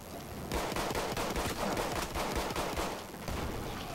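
Dense gunfire from the WWI shooter Battlefield 1 during an Operations battle at St Quentin Scar, a loud continuous fusillade of overlapping rifle and machine-gun shots with no talk over it.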